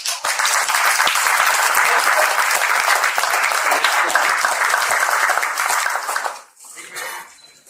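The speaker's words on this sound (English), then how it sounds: "Let's have a round of applause." Audience applause for panelists at a health and wellness talk event, a dense, loud burst of clapping that holds steady for about six seconds before dropping off sharply, with a faint brief tail afterward.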